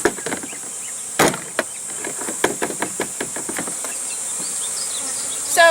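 A constant buzzing drone of honeybees fills the background during a varroa mite alcohol wash, punctuated by sharp knocks and taps on wood.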